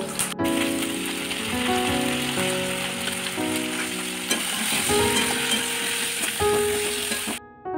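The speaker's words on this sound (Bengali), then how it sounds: "এবার আমি একটা পাত্রে তুলে নেব, নিয়ে ওই তেলেই আমি সবজিগুলো ভেজে নেব।" Continuous sizzling of vegetables frying in hot oil for pabda fish curry, close up, with occasional scraping and stirring in the pan.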